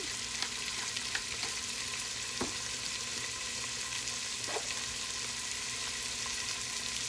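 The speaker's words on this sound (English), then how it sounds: "all I'm doing is cooking down the onions and the peppers" Onions and peppers cook down in a pan for a homemade tomato sauce, giving a soft, continuous sizzle with a few faint clicks of stirring, close and fairly quiet, with no talk.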